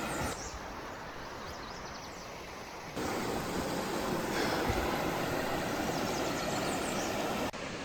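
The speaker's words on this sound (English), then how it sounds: "The Merced River keeps me company" The Merced River in Yosemite Valley rushes by in a steady broadband wash of flowing water, fairly close and continuous, growing a bit louder partway through.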